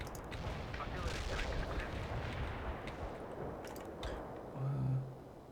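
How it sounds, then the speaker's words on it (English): Incoming artillery fire in the World in Conflict video game, a continuous heavy rumble of distant blasts and explosions with a louder low boom near the end. "Incoming fire, Romano."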